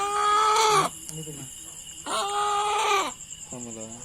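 Fighting cocks on a farm give two long, loud, harmonic crowing calls close by, followed by a shorter clucking call, with brief quiet gaps between them.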